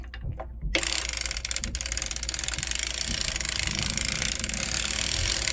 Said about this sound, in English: We're going to crank through that.